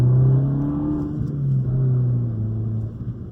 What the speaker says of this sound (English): Sport button's pressed, right on the stop sign, and there I go.